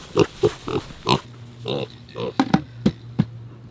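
Farm pigs grunting and oinking up close, a string of short snorts and squeals in an irregular rhythm, with a voice calling to them faintly underneath.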